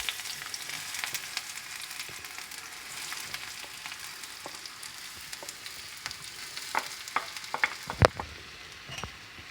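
Onion sizzles in olive oil in a tagine, a soft, fairly quiet crackling hiss running throughout, dotted with small pops and a few sharper clicks near the end.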